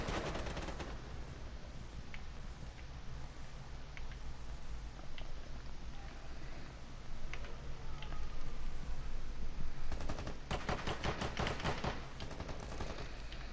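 Shotgun fire in Rainbow Six Siege, a dense stretch of overlapping gunshots with a heavier burst of rapid cracks near the end, steady and fairly close amid busy game noise.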